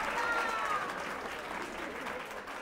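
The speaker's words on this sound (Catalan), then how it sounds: "Vinga, aplaudim-la, tots." Studio audience at a Catalan spelling quiz show applauds a contestant, a steady broadband clapping that stays fairly even and fades slightly toward the end, with a brief voice or tone audible early on.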